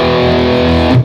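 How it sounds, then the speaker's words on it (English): Electric guitar playing a chunky riff through an amplifier with distortion switched on, a loud, thick sustained tone that cuts off sharply after about a second. "So if you have so here I'll put some distortion on because this might make it easier to hear, right?"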